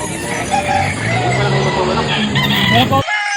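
Chickens and a rooster crowing and clucking together at a busy poultry market in Calauan, with sale chatter mixed through the racket before it cuts off abruptly near the end.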